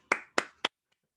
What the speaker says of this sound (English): here's my clapping for you